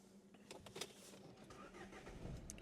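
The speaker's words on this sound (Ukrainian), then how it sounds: "зараз ми заводимо наш автомобіль" A 2012 Renault Megane GT Line 1.5 dCi automatic engine cranks via start-stop button and catches, settling into a steady low running hum close by.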